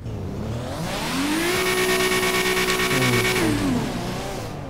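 A car engine in GTA 5 revs steadily while being straightened into a parking spot at a showroom, its pitch climbing, holding high and then falling back. It is loud, close and continuous, with no talk.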